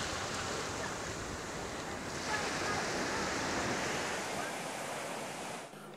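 Ocean surf at Karon Beach in Phuket makes a continuous broad, hissing roar of breaking waves, steady and fairly close, with some wind noise on the microphone.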